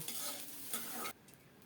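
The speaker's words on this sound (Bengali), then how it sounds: "এখন শুধু নেড়ে চেড়ে লাল লাল করে ভেজে নেব" Boiled bottle gourd peel is stirred and fried in a wok, giving a faint sizzle with soft scraping strokes that stops abruptly after about a second.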